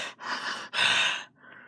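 An anime-style character, Izuku, pants in quick, breathy gasps: two strong exhales close to the mic, then a softer trailing breath.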